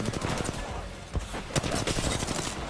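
Rapid bursts of automatic gunfire from an Apex Legends firefight, dense and loud throughout with sharp individual shot spikes standing out against the continuous rattle.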